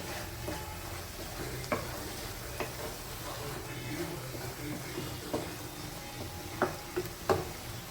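A spoon scrapes and taps in a pan while a pumpkin mixture sizzles softly underneath, the clinks irregular and louder toward the end.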